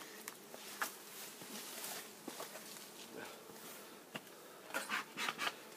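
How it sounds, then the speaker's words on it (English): Bees coming and going at a hive entrance outdoors, a faint buzzing drone with scattered brief louder passes and light ticks as individual insects fly close. "this is the door and the bees are going in and out"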